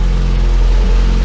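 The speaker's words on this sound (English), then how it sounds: "did you hear the little pops through the intake then?" A car engine with an ME221 engine management unit, running lean, idles with a steady low drone. A faint small pop through the intake is heard briefly, and no one speaks.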